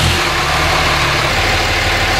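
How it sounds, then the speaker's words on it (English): A 2005 Dodge Cummins diesel engine idling loudly and close by, a rough, steady low rumble that runs continuously with a slight change in tone partway through. "once you finally got your fuel filter cap snug, we can go ahead and start the vehicle."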